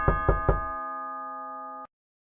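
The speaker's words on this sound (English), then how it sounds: "They knocked the door, but no one opened it." Three quick knocks on a house door in an animated story, followed by a sustained ringing tone that lingers before cutting off.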